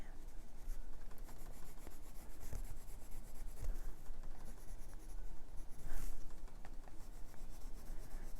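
Caran d'Ache colored pencil shading across a page of a Chinese coloring book, a steady soft scratchy rubbing that runs continuously at close range with no voices.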